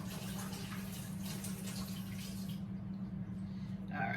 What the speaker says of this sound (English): I'm gonna take and pour some more water off of them before I pour the peas in the bowl